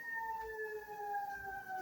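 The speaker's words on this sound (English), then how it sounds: "Sirens, how apropos." A siren wails in the distance, a steady, slowly falling tone that carries on throughout, faint and alone with no speech.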